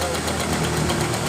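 A Honda Beat scooter engine idles unstably, a dense, rough mechanical rumble with rattling vibration held close and loud for a brief moment without a clear pause.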